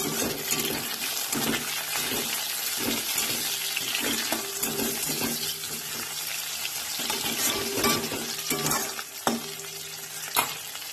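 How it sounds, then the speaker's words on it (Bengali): Tomatoes added to fried onions sizzle in a pan, a constant loud hiss with repeated stirring scrapes and occasional clinks, no voices. "এবার আমি টমেটোটা দিয়ে দিলাম।"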